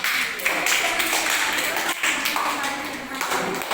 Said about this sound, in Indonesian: Mari kita berikan tepuk tangan kepada teman Noya.